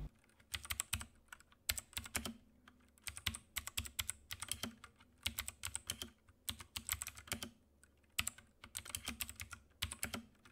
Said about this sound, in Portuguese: Agora vamos ver um pequeno sound test com os RK azuis.